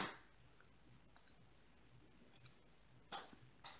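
Scissors snip excess paper straw on a craft frame in a few faint, close cuts near the end, after a quiet stretch of light rustling, with no talking.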